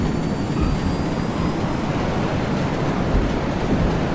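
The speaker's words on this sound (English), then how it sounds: "There's touchdown, we'll come up to full reverse." A Tornado F3 jet in the Prepar3D flight simulator roars steadily in full reverse thrust just after touchdown, a loud, broad, unbroken rushing noise with no voices.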